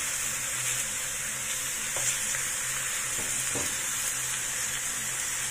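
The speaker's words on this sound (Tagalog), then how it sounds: "I-fry lang din natin yan hanggang sa maging brown yung kulay ng chicken." Chicken pieces frying in a pan for chicken afritada, a steady loud sizzle with a few faint clinks of stirring, no talking.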